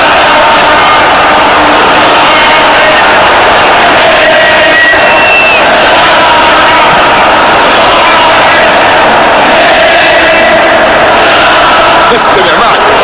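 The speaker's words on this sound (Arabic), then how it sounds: "جمهور الشمس يعلو صوته في هذه الأثناء" Al-Nassr fans in a stadium roar and chant as a loud, unbroken crowd noise throughout, with an announcer talking over the din.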